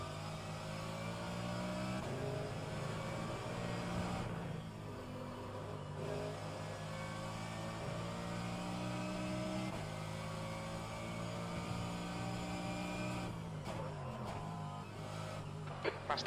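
Race car engines at Laguna Seca in rFactor 2, a sustained mid-pitched engine drone with layered harmonics that rise and fall as the car accelerates and shifts, steady and close, with brief rougher bursts near the end.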